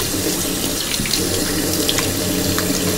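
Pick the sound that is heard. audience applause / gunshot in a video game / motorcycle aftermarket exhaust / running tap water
running tap water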